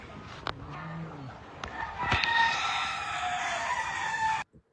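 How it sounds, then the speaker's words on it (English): Roosters crow outdoors at a flooded rural estate, several long calls overlapping at moderate distance over steady background noise, with clucking, before the sound cuts off abruptly. "You hear them roosters, right?"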